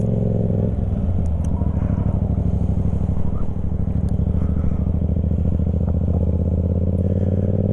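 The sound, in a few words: motorcycle pulling away as clutch is released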